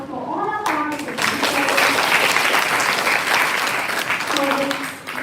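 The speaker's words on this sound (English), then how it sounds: "A big round of applause for all our participants." Sustained, dense applause from a school audience at an inter-house quiz competition fills the room for several seconds, with a voice speaking briefly at the start and again near the end.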